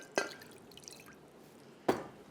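Water dripping from hands wetted in a bowl of water while cooking: two distinct close drips about two seconds apart over a quiet background.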